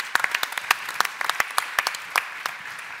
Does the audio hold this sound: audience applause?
yes